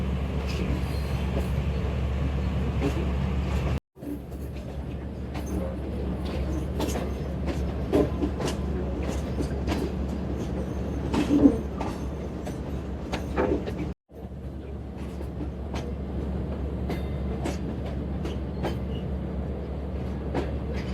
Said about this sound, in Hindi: प्लेटफॉर्म नंबर 2 से डिपार्चर हो रहा है शालीमार एक्सप्रेस का।